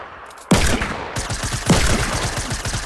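A suppressed pistol fires in a video game firefight, two sharp shots about a second apart, each followed by a rapid string of quieter follow-up shots and clattering. The sound is close and clear, with no talk over it.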